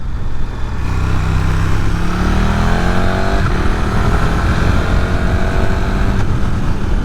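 A KTM 1290 Super Duke R motorcycle engine runs steadily while being ridden, a loud continuous drone with rising and falling pitch as the revs change.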